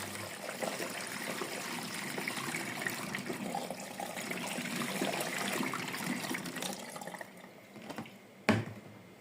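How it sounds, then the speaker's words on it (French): Water rushes and splashes steadily while a washing machine drum is rinsed out after a 90° white wash, fading after about seven seconds and ending with a brief knock. "Je vais bien rincer le bac et tout sera bon."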